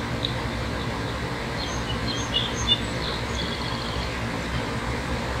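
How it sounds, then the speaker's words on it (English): Several small bird chirps and calls ring out at a distance over a steady outdoor background hum, scattered and brief. "I'm getting a lot of responses from other birds."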